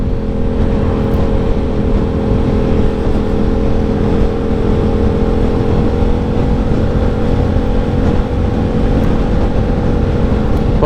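A KTM Super Duke 990 motorcycle on the move gives a loud, steady engine drone mixed with rushing wind, unbroken for the whole stretch with no talking.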